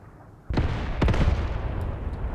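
Mortar strike from a battery of six 8cm mortars in the war game Graviteam Tactics: a sudden loud blast followed by a second heavy impact and rumbling echo, with distant booms trailing off.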